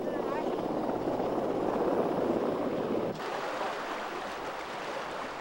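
Steady, loud helicopter rotor and engine roar from military aircraft repeatedly taking off and landing in the mountains of Bamiyan, Afghanistan, a continuous broadband drone that drops slightly in level partway through.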